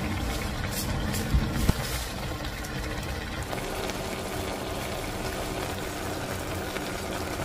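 Braised tofu in broth reducing on the stove, with sliced green onion and sesame on hand, gives a steady, close bubbling simmer with a few small pops near the start, continuous and alone without talk.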